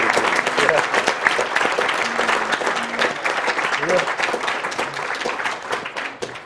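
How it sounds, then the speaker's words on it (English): Loud, dense audience applause at a Mega Man 9 speedrun event, Awesome Games Done Quick 2014, fills the whole stretch, with cheering voices mixed in and the clapping tapering slightly at the end. "keep the applause going"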